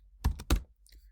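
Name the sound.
typing on a computer keyboard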